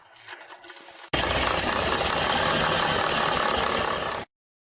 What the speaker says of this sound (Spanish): Es una falla de la bomba.